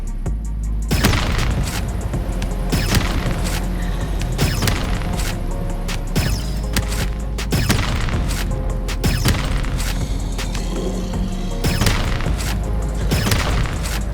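Freedom Blaster launcher from Korrupt Zombies firing repeatedly in a video game, with loud booming blasts and thuds at a steady rhythm over a constant low rumble, without any talk.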